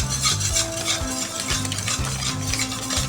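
Cornstarch and Mr. Gulaman powder being stirred to dissolve in a pot: repeated rhythmic scraping swirls of a utensil against the pot bottom, close and steady, with no talking.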